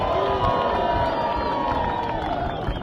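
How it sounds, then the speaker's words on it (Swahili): A dense, steady crowd at an outdoor community gathering cheers loudly and continuously, with high-pitched ululation riding above the roar throughout. "muwashangilie na vigelegele"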